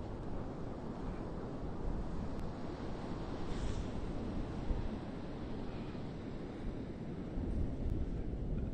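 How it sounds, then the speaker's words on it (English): Large Atlantic surf breaking on the beach at Fire Island National Seashore in winter, a continuous heavy roar of rolling waves mixed with strong wind buffeting the microphone, with no voices. "You are getting some huge waves rolling in now."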